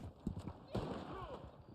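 Horse hooves clip-clopping in the video game Red Dead Online, a quiet uneven trot with a voice talking over it.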